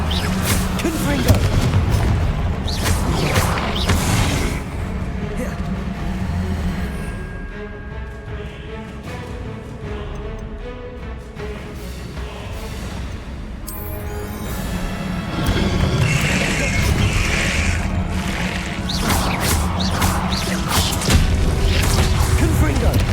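Confringo fire-spell explosions in Hogwarts Legacy: repeated heavy booms and crashing blasts, loud and close, interspersed with a quieter stretch and then another dense burst, with voices talking over parts of the fighting.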